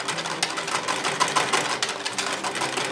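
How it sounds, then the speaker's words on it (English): A whisk beats melted butter into pancake batter in a bowl, giving a fast, steady rhythmic clatter and scraping that runs continuously and fairly close throughout. "So I'm going to whisk that in"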